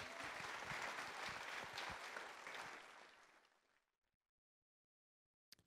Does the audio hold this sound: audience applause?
yes